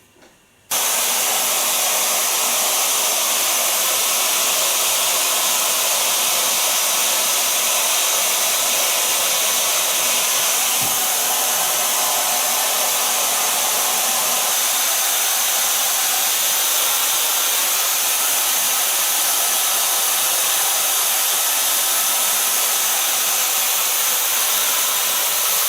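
A hair dryer blows steadily while long hair is dried, a loud, continuous broadband rush that starts abruptly at the outset and holds nearly unchanged throughout, with no talking.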